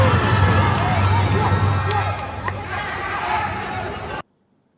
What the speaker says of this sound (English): we've got the crowd cheering